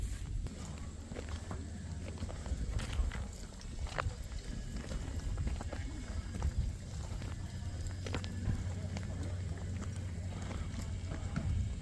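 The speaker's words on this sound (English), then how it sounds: "Got lots of horses." Horses being ridden clip-clop at a walking pace over a steady outdoor rumble in Tennessee, with people talking nearby.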